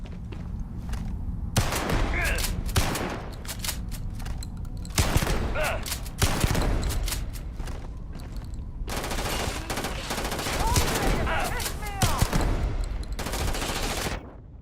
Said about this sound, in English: Let's go to my shotgun.